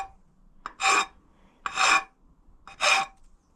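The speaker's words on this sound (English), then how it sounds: "just carefully run the file on the very edge, like so," A hand file is drawn along a metal edge on a bobber motorcycle project, producing three distinct rasping strokes, each short and gritty, separated by brief quiet pauses, close and clear.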